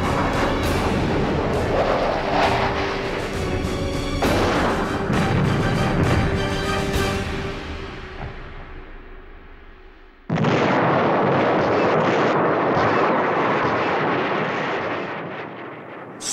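Aerial bombing during the Vietnam War produces a continuous, loud roar of rumbling explosions that fades out, then a second dense blast of booming detonations starts abruptly and keeps thundering on.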